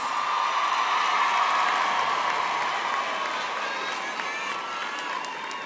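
Graduation ceremony audience applauding in a large hall, a sustained, even wash of clapping with faint cheers mixed in, slowly tapering off.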